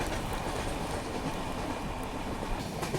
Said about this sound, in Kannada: ಇಲ್ಲಿ ನೋಡ್ರಿ ಇಲ್ಲಿ ಎಷ್ಟು ಬಂದು ಮಳೆ